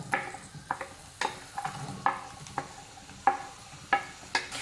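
Onions sizzling in hot oil in a kadai, a moderate hiss broken by regular stirring scrapes and clinks about every half second, close by with no voices.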